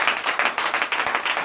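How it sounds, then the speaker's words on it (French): A church congregation claps during a Sunday service, a dense, steady patter of many hands that fills the whole moment with no voices on top. "Donnez l'acclamation à Jésus."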